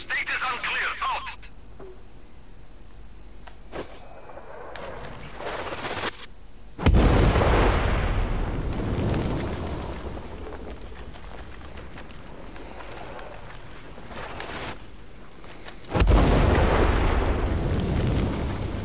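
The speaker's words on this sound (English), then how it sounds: "Tango under mortar fire." Mortar explosions in the video game Sniper Ghost Warrior Contracts 2: two heavy, booming blasts hit several seconds apart, each with a rumbling tail, over a low game background where radio voices talk.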